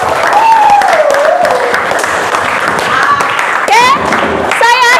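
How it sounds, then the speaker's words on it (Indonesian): A class of students applauds in a school classroom: a sustained burst of clapping for several seconds, mixed with chatter and lively voices. "Tepuk tangan buat kita semua yang hebat."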